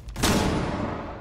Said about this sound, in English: Flashbang. They won't be able to see.